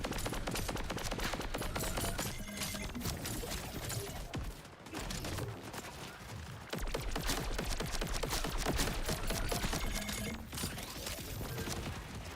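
Sustained, dense gunfire in the Borderlands 4 video game, rapid automatic bursts crackling almost nonstop for many seconds with one short lull, loud and close, without talking.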